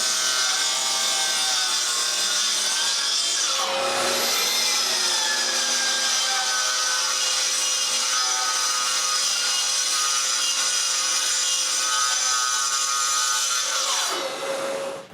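A hand saw cuts through a piece of wood with a long run of steady, close rasping strokes, pausing briefly near the start and stopping at the end.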